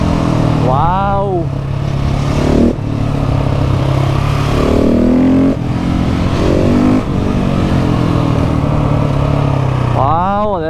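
A KTM 690 SMC R supermoto's single-cylinder engine drones loud and close on a mountain road, pitch sweeping up and down as it revs and downshifts with the slipper clutch working, under steady wind roar.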